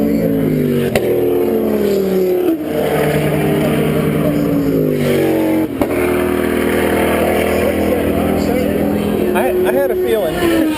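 Corvette race cars roaring past a trackside spot, engines rising and falling in pitch as several pass in turn, loud, with a group of people chatting throughout.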